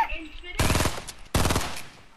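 Two bursts of rapid machine-gun fire in a video game, each a dense rattling volley lasting under a second, loud and close, separated by a short gap.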